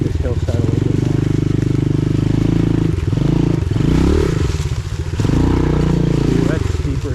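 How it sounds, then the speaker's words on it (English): Pit bike ridden up a forest hillside, its small engine droning loud and close, revving and dipping as the rider climbs, with clatter and scraping over rough ground. "Guys, there's a pit bike track right there. I'm gonna ride this hillside a little bit more."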